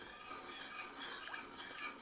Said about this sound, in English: I'm going to stir it all together for a moment just to start dissolving the sugar and the salt